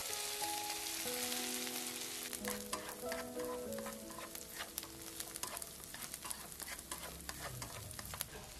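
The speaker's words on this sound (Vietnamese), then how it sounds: "Mình xào cho cái lạp xưởng nó hơi tươm cái mỡ ra thế này rồi á thì mình sẽ cho cái phần tôm khô vào" Chinese sausage and dried shrimp stir-fry in a pan for a Chinese-style savory taro cake, giving a steady close sizzle with scraping stirs and soft pattering crackle throughout, no voices over it.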